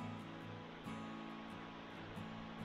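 A mountain waterfall near Bleaberry Tarn in the Lake District makes a faint, continuous rushing roar, heard from some distance as a steady wash of white noise.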